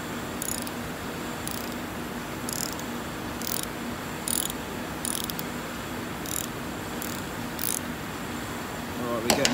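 Spanner loosening the nut on a Delphi Bosch Ford diesel injector, giving a series of faint, regular ratcheting clicks at roughly one-second intervals over a steady low hum, ending with a brief louder clack.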